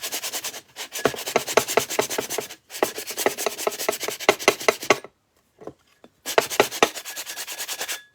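Rapid back-and-forth sandpaper scraping on a vase in three long bursts, separated by brief pauses, close and steady in rhythm.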